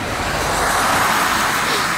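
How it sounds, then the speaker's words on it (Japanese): Steady, loud traffic noise from cars passing on a road at night near a bridge in Fukushima, a continuous broadband roar that fills the whole clip, with voices faintly present. "うん、車多いよね。"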